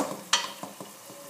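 Lamb meat frying with onions in a pot for nwasser mfawra, stirred with a sharp scrape followed by several softer knocks over a steady sizzle.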